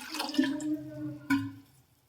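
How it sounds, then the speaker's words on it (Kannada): About half a litre of water is added to a street-style pani puri mixture, a short close pour with a ringing, rising tone, a second splash near the end, then quiet. "ಇದಕ್ಕೆ ಒಂದು ಅರ್ಧ ಲೀಟ್ರಷ್ಟು ನೀರು ಸೇರಿಸ್ತೀನಿ."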